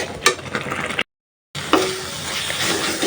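Spice paste being stir-fried in a pan for a village Bengali dish, giving a steady scraping stir over a bright sizzle, cut by a brief half-second gap before the frying resumes close up and loud.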